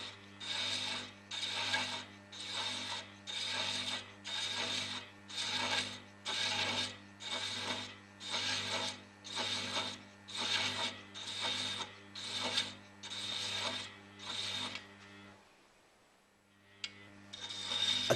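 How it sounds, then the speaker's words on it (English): A metal lathe turns at low speed while a 16 TPI cutter cuts a thread, giving a steady train of evenly spaced rasping strokes over a constant mechanical hum, close and moderate in level, with no speech. "with your lathe at a low speed, strike and fully profile the thread."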